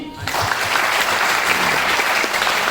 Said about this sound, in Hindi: तो इनके लिए एक बार तालियां होगी।